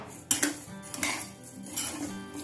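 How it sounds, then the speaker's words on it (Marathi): Dry rice grains being roasted and stirred in a pan for an idli premix, with scraping and clinking of a utensil against the pan in a few irregular bursts, close and moderately loud, with no talking. "तांदूळ छान कोरडे झालेले, हे आपण चांगले 5 मिनिट भाजायचे"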